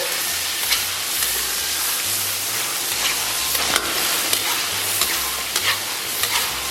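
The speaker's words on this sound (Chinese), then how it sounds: "然后给它炒出黄油。" Pixian broad bean paste, chili sauce and chopped chili sauce stir-frying in hot oil with scallion, ginger and garlic, a steady close sizzle with light scraping stirs breaking through at intervals.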